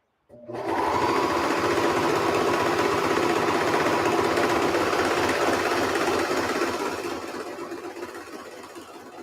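A serger sewing machine overlocking the seam on a pair of pants: it starts abruptly into a loud, fast, steady mechanical whir with rapid stitching ticks, runs for several seconds, then slows and fades near the end.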